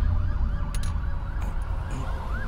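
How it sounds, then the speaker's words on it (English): A vehicle siren wails in rising and falling sweeps over steady low traffic rumble, moderately distant and continuous, with no one talking. "That'll be my sirens right there."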